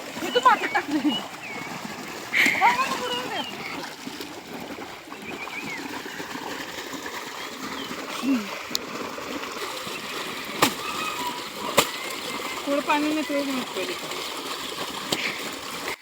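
Well water pumped by a motor splashes and trickles steadily while household items are washed outdoors during a big pre-festival house cleaning, with occasional clunks over the running water.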